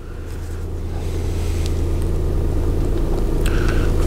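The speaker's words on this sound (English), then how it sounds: "Just going to get the car started so we can look at that." A Peugeot 108's small engine runs at idle, a close, steady low rumble that swells slightly at first and then holds even, alone without talk.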